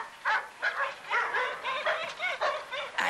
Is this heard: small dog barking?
yes